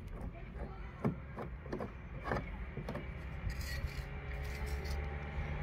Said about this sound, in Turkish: zımparayla güzelce zımparalayacağım.